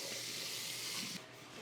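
Water sprays steadily onto a cast iron Dutch oven being rinsed, a close, even hiss that drops off sharply partway through.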